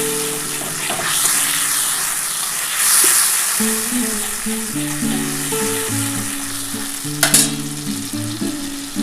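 Tomatoes and green chilies hit hot oil with a steady close sizzle and hiss, while background music with a tonal melody plays beneath and a brief louder crackle bursts in near the end.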